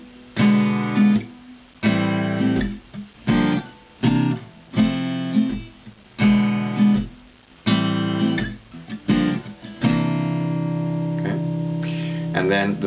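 Electric or acoustic guitar strumming a jazzy chord progression that includes a C ninth, chords rung out one after another in a steady rhythm, close and clear with no voices.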